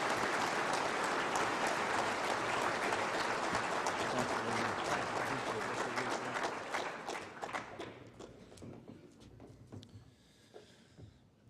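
A dinner audience claps for McClure Company, a full, loud round of applause that holds steady and then thins out, ending in scattered individual claps as it fades.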